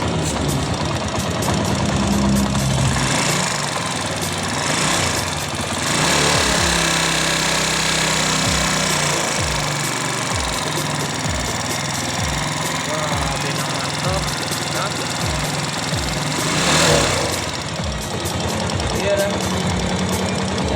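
A vehicle engine with a loud leak runs continuously nearby, a steady idling rumble with a rhythmic knocking pulse and hissing noise throughout, while someone talks over it.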